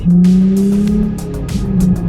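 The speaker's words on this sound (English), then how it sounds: "we are in the newly painted 2006 350Z" A newly painted 2006 Nissan 350Z drives along with a steady, loud engine drone from inside the car, rising and falling slightly in pitch throughout.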